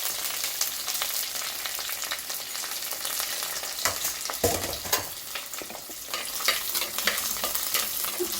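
Sliced onion and curry leaves sizzling in hot oil in a pan for a fish curry, a continuous crackling fry with occasional stirring scrapes and bumps, close and without talk.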